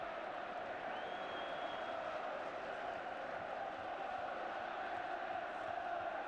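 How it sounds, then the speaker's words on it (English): A massive football crowd at St James's Park roars after a goal, a broad distant wash of cheering that holds steady and faint throughout, with a brief whistle-like tone rising early on. "So this massive crowd celebrate a great goal and another win"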